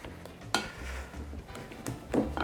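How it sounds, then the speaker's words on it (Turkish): Cooked dough is stirred in a pot to cool, giving soft scraping sounds with a few light knocks of utensil against metal, quiet and close. "Burada karıştırarak soğutuyoruz."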